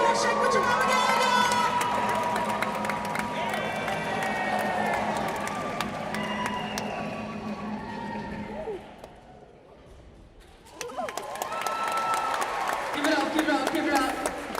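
A crowd at an annual Hawaiian luau cheers, shouts and claps loudly during a dance, with children's voices among them. The noise dips briefly before surging again, and people talk over the commotion.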